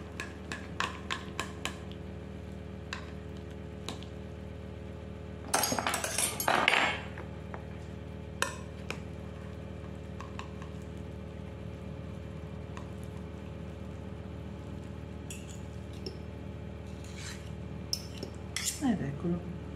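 Cutlery and plates clink while a cake is cut and served onto a plate, sparse close taps and scrapes with a busier clatter in the middle and near the end, over a quiet room with a faint steady hum.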